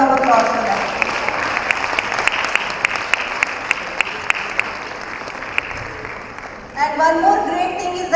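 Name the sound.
applause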